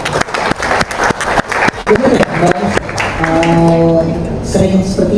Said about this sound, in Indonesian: tepuk tangan dong buat Pak